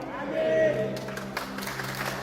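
A church congregation at a worship service at Gereja Oikumene Imanuel breaks into applause partway through, a soft wash of clapping rising after sustained musical tones, with a voice speaking over it.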